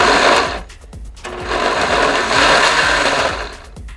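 A blender pulses roasted tomatoes for salsa verde: a loud, close motor whir in bursts, briefly dipping before surging again, with no talking.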